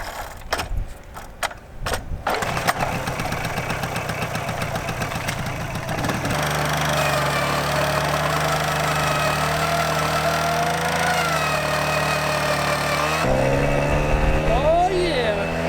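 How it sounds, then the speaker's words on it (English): Small two-stroke car engine kickstarted with pedals: mechanical clunks and short bursts at first, then it catches into a buzzing, rising and steady run, with a voice over the top. "You can also like kickstart this bad boy with the pedals."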